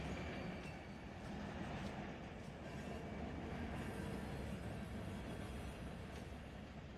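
A freight train in the Run 8 Train Sim video game rolls along at low speed, a quiet, steady rumble of wagons with faint rail clatter, with no talking.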